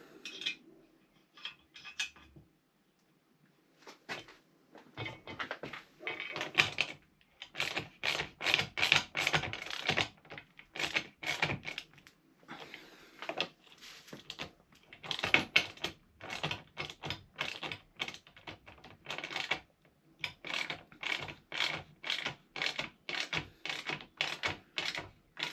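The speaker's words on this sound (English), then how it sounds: "bolting this on and hoping that it's straight, or somewhere near straight." Metal clicks and ratcheting from a tool tightening bolts while pannier rails and a Givi top box rack are fitted to a Royal Enfield Classic 350 motorcycle, coming in quick repeated clusters close by, with no speech.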